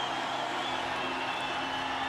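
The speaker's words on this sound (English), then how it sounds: "Now the crowd are trying to bring him home." A large swimming-arena crowd cheers a swimmer toward the wall on world-record pace, a steady, distant roar of many voices sustained throughout.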